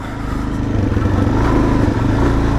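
A 2017 Suzuki DRZ400SM supermoto on sports tires pulling away off-road, its single-cylinder engine loud and near, with a rising, throbbing exhaust note as it accelerates.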